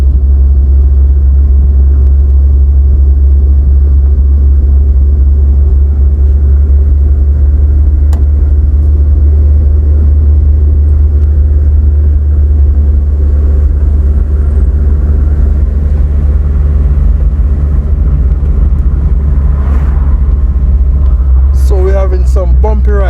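Car driving along a bumpy rural road in Myersville, St. Elizabeth, Jamaica, with a loud, steady low engine and road rumble throughout. Brief knocks and rattles come near the end, and no one speaks.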